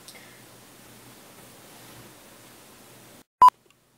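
A single short burst of phone dialing tones sounds loudly after a few seconds of faint hiss and quiet rustle; no one speaks.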